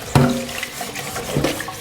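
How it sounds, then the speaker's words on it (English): Hot water runs from a tap with a splashing onset and a steady hiss of flow, moderately close, with faint clattering. "they'll have the hot water running like this"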